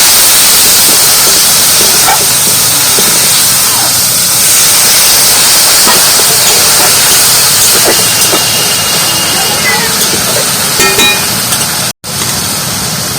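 Water is poured into a hot pan of banana flower curry with chilli powder, giving a loud, steady steaming hiss that fills the whole stretch with a brief dropout near the end.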